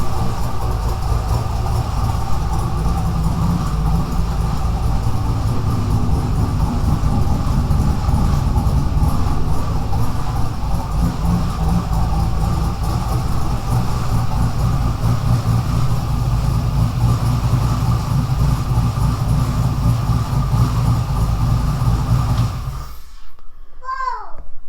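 A loud rock bouncer off-road vehicle engine runs continuously at a rough, rumbling idle, close by, in a garage, then cuts out near the end.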